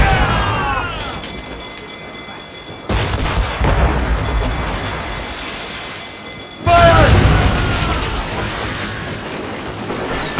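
Naval cannon fire during a ship battle against a Royal Navy warship in Assassin's Creed Rogue: two heavy booming volleys with rolling rumble, loud and close, with voices over the din.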